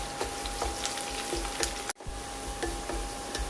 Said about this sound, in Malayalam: വെളുത്തുള്ളി ഒന്ന് മൂത്ത് വരണം. കൂടെ തന്നെ ചുവന്ന മുളക് മുറിച്ചതും ചേർക്കാം.